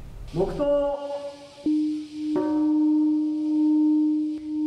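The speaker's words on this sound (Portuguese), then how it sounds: "os sinos da paz foram tocados no memorial em Hiroshima" A large peace bell at the Hiroshima memorial struck twice at 8:15 a.m., each deep tone ringing out and sustaining with a long, slowly fading hum, with faint speech at the start.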